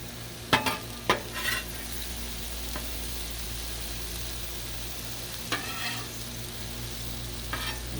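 Chicken breast with cauliflower and broccoli sizzling on a Blackstone griddle, a steady fry hiss with several sharp spatula scrapes and taps near the start and later, close by, no talk.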